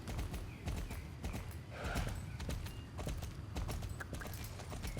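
A horse's hooves clip-clop steadily in the Star Stable video game as it is ridden through autumn countryside, a regular rhythmic beat that stays close and clear with no talk over it.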